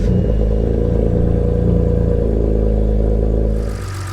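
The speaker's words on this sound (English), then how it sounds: "Now we're going to turn the car on," A BMW E90 with an N52 straight-six runs loud and close after fuel injector replacement, holding a steady, even idle hum with a light mechanical clatter that eases slightly at the end.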